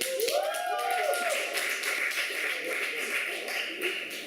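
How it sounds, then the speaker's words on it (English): Applause from a small audience at a poetry night, a steady patter of clapping after a reading, with brief voices over it at the start and a fairly even level that carries on throughout. "So a big round of applause to Colin"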